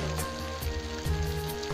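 Water poured into a pan of fried masala potatoes and eggplant makes the food sizzle and bubble, a close, steady frying hiss with a few louder crackling bursts over a short stretch.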